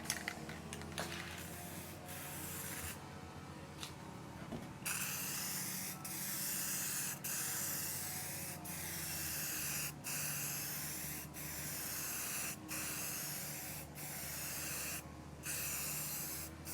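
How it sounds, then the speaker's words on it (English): Long continuous hissing bursts from an aerosol can, broken by brief pauses, with a faint rattle or click now and then. "Let me not spray paint my fingers today like I normally do."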